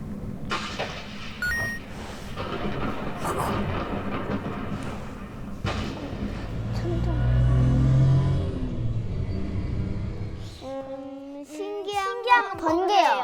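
Binaural 3D thunder plays through headphones in a demonstration, a deep rolling rumble that swells to a peak mid-way and fades, followed by voices talking.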